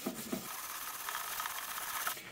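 Scrubbing paint off a top box, a close, steady rasping rub with a couple of sharper strokes at the start, continuing without talk.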